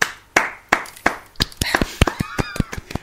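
A few people clap in a small indoor setting, starting as sparse, evenly spaced claps and quickening into a denser, irregular patter of applause.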